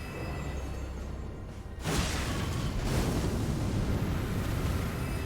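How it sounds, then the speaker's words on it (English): An enemy explosion in Elden Ring bursts in a sudden loud boom about two seconds in, then a heavy rumbling roar carries on after it, with no talking. "Get away from their explosion."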